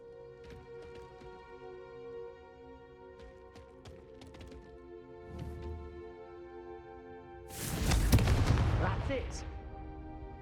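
The Confringo fire spell in Hogwarts Legacy, with a few light cracks and swishes over a sustained musical drone, then a loud, rumbling fiery blast that swells and rolls on for a couple of seconds.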